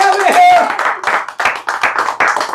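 A group claps during a personality development activity class game, with quick bursts of hand claps that keep a rhythm over music and voices.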